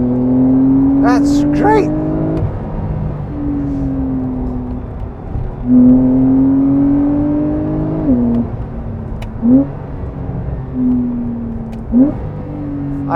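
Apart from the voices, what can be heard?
2020 Porsche 911 Carrera 4 (992) driven spiritedly on wet road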